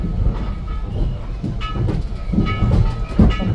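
A heritage railway train rumbles and rattles steadily over bumpy track, with irregular clanking bumps and jolts rising at intervals, heard up close from inside.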